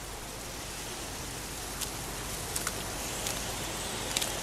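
Steady pouring rain in the video game Heavy Rain, a dense broadband hiss with a few faint drip-like ticks, constant and close with no voices.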